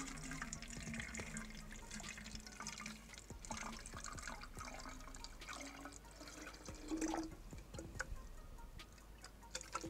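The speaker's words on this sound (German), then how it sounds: "Ich werde jetzt einfach mal Wasser einfüllen." Water trickling and gurgling steadily as it fills a 3D-printed shisha, a continuous close pour with small bubbling and clinks, no talking.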